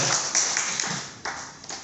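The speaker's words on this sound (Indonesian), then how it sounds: "tepuk tangan dulu untuk Nagaya" Brief burst of audience applause at an event for Nagaya, a dense hiss of clapping with a few sharper claps standing out.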